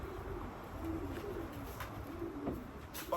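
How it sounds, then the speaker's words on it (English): Racing pigeons coo softly and repeatedly at a loft after a young bird race. Their low murmuring rises and falls continuously over faint background noise. "poor pigeons here again."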